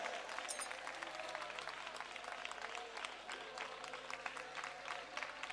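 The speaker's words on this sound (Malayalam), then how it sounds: "മക്കളെ കൈയടിച്ചോ ശക്തിയോടെ" A congregation at an outdoor church gathering claps hard and fast, a dense, continuous patter of many hands that fills the space throughout, with faint crowd voices mixed underneath.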